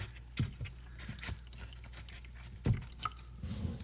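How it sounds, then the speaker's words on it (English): Water drips from the bottom of a plant pot into a utility sink, sparse soft drips and small splashes at irregular intervals, fairly quiet and close. "it's coming out the bottom and going down my little sink."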